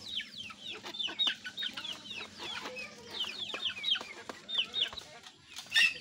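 Native chickens clucking steadily inside a small net cage, several birds calling in quick overlapping bursts close by, with a rooster-like cry near the end.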